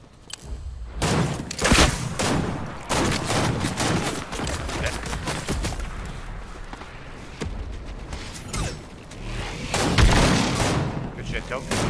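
Rapid video game gunfire from a Fortnite match, with dense bursts and booming shots running throughout alongside energetic players talking over the action.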